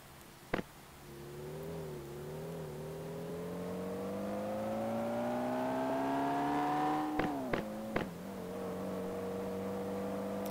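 A vehicle driving straight up a hill, its engine whine climbing steadily in pitch under load, with a few sharp clicks near the end before it settles to a lower hum; no talking.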